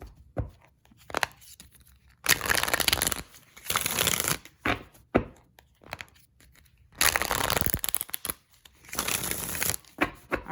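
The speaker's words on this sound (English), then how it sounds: "I'm going to shuffle these cards" Tarot cards being shuffled in repeated bursts, each a crisp riffling flutter lasting a second or two, separated by short quiet pauses; close and fairly soft, with no talking.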